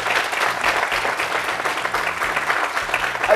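A young audience at a youth talk event claps together in a dense, continuous burst of applause that stays loud and even throughout.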